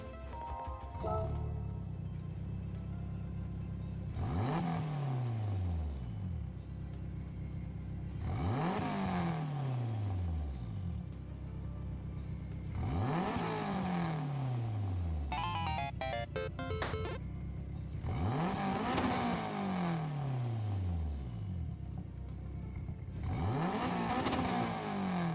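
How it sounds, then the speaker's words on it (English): Small Renault Twingo engine in a racing video game revving up repeatedly, five sweeping rises and falls spaced a few seconds apart over a steady droning bed, loud and close with no talking. "now let's hear the fucking Twingo"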